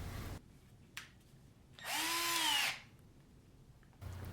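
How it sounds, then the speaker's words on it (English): A battery-powered drill spins a length of steel rod stock in a quiet workshop, giving one short, rising whir lasting under a second, with a faint click before it and soft handling noise after. "Then chuck it up in a battery-powered drill."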